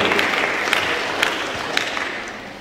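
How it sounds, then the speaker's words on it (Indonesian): Audience applause at a national public health seminar, honoring the organizing committee: steady dense clapping from a hall crowd, moderately loud and continuous throughout, slowly tapering toward the end. "Tepuk tangan buat panitia yang mengangkat tema itu."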